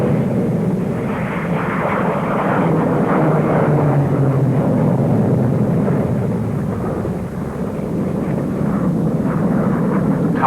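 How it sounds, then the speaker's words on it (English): A 1958–59 Farnborough air show display by the Royal Navy's aerobatic team of Sea Hawk jets: a loud, sustained roar of jet engines that swells and fades slightly as the formation passes overhead, with no voices. "Sheer spectacle, the Navy's aerobatic team of Seahawks."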